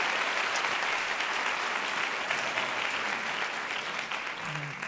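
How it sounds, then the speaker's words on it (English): An audience at a think tank event applauds loudly and continuously, a dense wash of clapping that holds steady the whole time and thins slightly at the end. "a gift that, without a question, deserves one more big round of applause"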